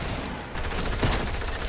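Continuous, loud gunfire from a TAC shotgun in Fortnite, heavy blasts overlapping in a dense, chaotic fusillade with no pauses between shots.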